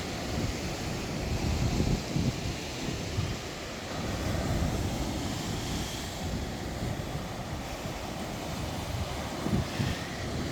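Sea waves washing onto a beach below a property with a beach bar, heard as a steady broad roar with slow surges, mixed with wind buffeting the microphone and no speech.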